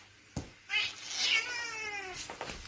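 A cat lets out a drawn-out, wavering meow preceded by a short sharp sound, close and clear, with faint room noise around it.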